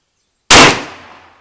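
A single sharp gunshot from a .38 Special round, a sudden loud crack followed by a short decaying echo, close and alone after silence.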